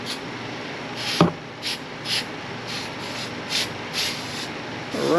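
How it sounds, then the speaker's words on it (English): Short hissing bursts of silicone lubricant spray from an aerosol can around a Suzuki V-Strom air cleaner, several quick puffs spaced irregularly, with a soft scrape or clunk near the start. "to spray just a little bit of silicone"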